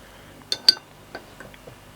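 Cap coming off a bottle of Hitachino Nest White Ale, a Japanese beer, with a couple of sharp glassy clinks and metallic ticks followed by faint small handling clicks, close and quiet with no talk.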